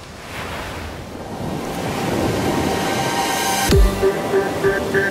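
Big surf pounds a dangerous reef break on Kauai, a loud continuous roar of crashing waves with a sharp impact near the end, wind buffeting the microphone throughout.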